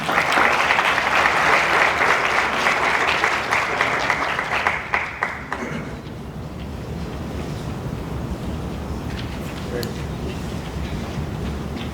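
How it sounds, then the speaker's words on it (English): An audience at a nursing brigade orientation gives a loud round of applause that swells and then fades after about five seconds, leaving low room noise and murmuring. "So give her a round of applause as she come up."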